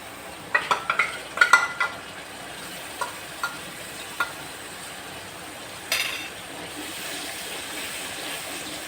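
About a kilo of fish seasoned with salt, turmeric and chili fries in a pan for chorchori. A soft, low sizzle runs under irregular clacks and scrapes as it is stirred, and there is no talk.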